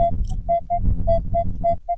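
A Minelab Equinox metal detector sounds its target signal while digging on a meadow: a series of short, loud, even beeps about every quarter second, with low rumbling handling noise underneath.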